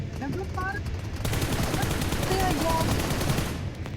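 Rapid AKM rifle gunfire crackles through a video game firefight in loud, dense bursts, with quieter scattered shots at first and then a sustained volley.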